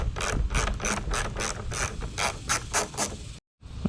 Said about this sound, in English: So what we got to do is remove all these little gold bolts here, so that way we can take the cover off.